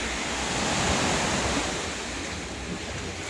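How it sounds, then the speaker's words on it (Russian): Sea waves of the Black Sea at the Gelendzhik resort wash beneath a seaside veranda in a steady, close, hissing surge, with no speech. "Прямо в море, под шум волн."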